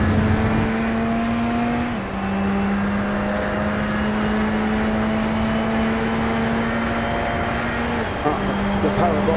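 A Radical SR10 race car at Hockenheim, its engine holding a steady high whine with a couple of quick gear-change drops, loud and continuous beneath a commentator's talk.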